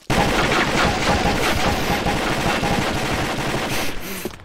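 Rapid automatic gunfire from the online shooter Combat Arms rattles continuously and loudly in dense bursts for several seconds, tapering off briefly at the end.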